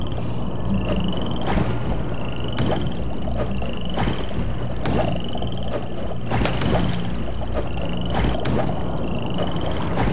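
Frogs in a swamp level of the video game Mask of Eternity croak in a steady repeating pattern, each rising call recurring about once a second over a dense, continuous swampy ambience.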